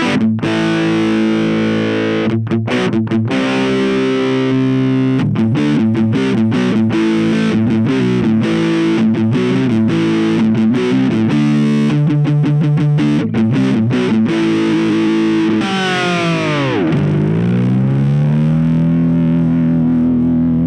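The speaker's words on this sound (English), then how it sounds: "Let's check out the distorted sound." Electric guitar played through a NUX Mighty Lite BT modeling amp with heavy distortion, loud chugging chords and riffs with rapid stops, then a sustained bent note ringing out at the end, alone with no talking.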